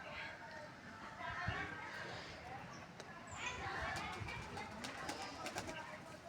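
Domestic pigeons cooing during breeding, a male among the flock, with soft low coos repeating through steady background noise and some faint voices.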